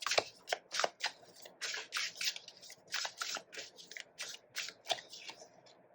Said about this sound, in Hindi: और कार्ड्स निकाल के देखते हैं यहाँ पे और क्या दिख रहा है